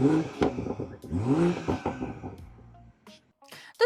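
A BMW M340i xDrive in Sport mode revs up with a rising, throaty sport exhaust roar, then drops away into a few clattering pops and a final burst near the end.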